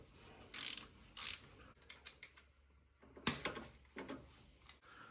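Ratchet loosening valve cover bolts on a 2G DSM engine, quick clicking bursts in short spurts separated by pauses, close and crisp.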